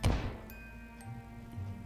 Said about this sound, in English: A bit of an explosion.